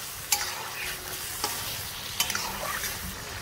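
Chicken karahi frying with garlic ginger paste, a constant close sizzle broken by a few sharp metal clinks of a spatula against the pan, no talking.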